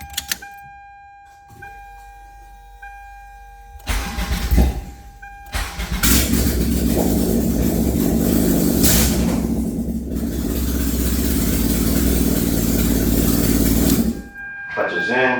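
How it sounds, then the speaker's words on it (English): A naturally aspirated Toyota MR2 Spyder engine turns over for its first start after a build, cranking briefly before catching and settling into a loud, steady idle close by, with a voice speaking early on. "Clutch is in. First start."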